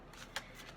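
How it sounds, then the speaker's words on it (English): A deck of oracle cards being shuffled, with soft riffling and quick papery flutters plus one brief sharper snap, close and fairly quiet throughout. "Sorry I'm having to shuffle so much"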